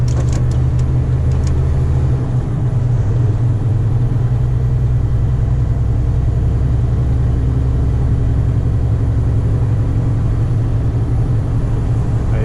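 A Scania G450 2015 truck with trailer engine rumbles steadily and loud throughout, a deep continuous drone with road noise and no talking.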